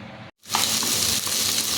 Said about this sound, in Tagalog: Bigisa lang naman natin siya.